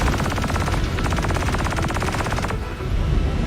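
Video game gunfire rattles in fast, loud, rapid automatic bursts, with a continuous stream of shots that cuts off sharply near the end before a brief quieter tail.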